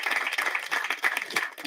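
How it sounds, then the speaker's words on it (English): Applause from the audience at a prison graduation ceremony for inmates and officers, moderately loud and uneven clapping from a nearby crowd, with voices mixed in. "Can we give her a round of applause as we come on podium?"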